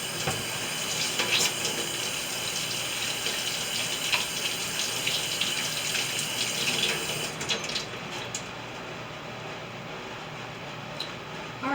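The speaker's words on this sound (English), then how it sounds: "Gotta wash my hands first." Hands being washed under a running kitchen tap, a loud, steady stream of water splashing into the sink that briefly shifts before continuing to the end.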